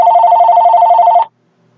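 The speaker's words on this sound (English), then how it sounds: "oh, pardon me, I do have a phone call here" A telephone rings once in a steady electronic bell tone lasting just over a second, loud and close, then cuts off into silence.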